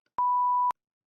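A single censor beep: one steady, loud, pure electronic tone lasting about half a second, on its own in silence.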